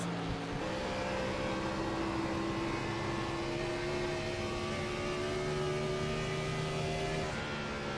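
Gen 4 NASCAR stock car engine at high RPM, heard onboard during a race at Dover Speedway: a loud, continuous wailing drone with slowly rising pitch, briefly dipping near the end.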